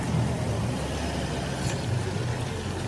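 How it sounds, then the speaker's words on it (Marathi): Continuous road traffic on a bridge in Nashik during heavy rain and flooding, a steady low rumble of cars and trucks passing without pause, moderately loud with no clear individual vehicles standing out. "गाड्या कंटिन्यू चालू आहे"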